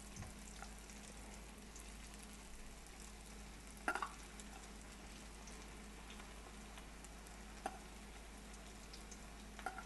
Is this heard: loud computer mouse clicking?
no